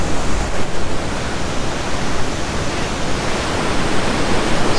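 Rough ocean surf pounding the shore at Seixal, Madeira, a loud, continuous broadband wash of crashing waves with no voices.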